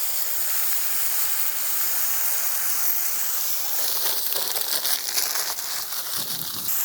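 A Crimean Tatar shepherd's pan with brynza cheese sizzles under its lid, a soft continuous hiss and crackle that grows busier with scattered pops toward the end.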